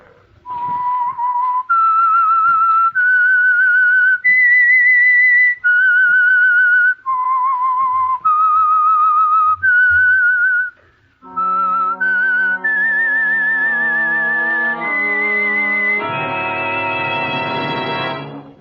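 A single whistler performs the eerie signature theme of a 1947 radio mystery drama, clear sustained notes stepping through a melody, then joined by a swelling orchestral chord that ends it.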